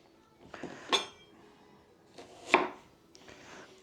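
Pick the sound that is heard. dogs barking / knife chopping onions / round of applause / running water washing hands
knife chopping onions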